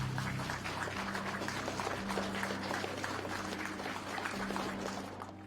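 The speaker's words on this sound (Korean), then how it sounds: "힘찬 박수 부탁드리겠습니다." An audience gives a sustained round of applause at a May 18 memorial ceremony in Gwangju, steady clapping heard faintly from a distance that tapers off at the end.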